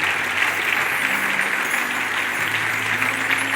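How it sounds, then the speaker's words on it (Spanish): A church congregation applauds, a dense sustained wash of clapping from many hands that stays steady and full throughout. "Dale un aplauso al Señor."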